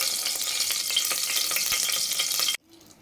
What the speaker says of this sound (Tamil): அடுத்து தேவையான அளவு எண்ணெய் ஊற்றிக்கலாங்க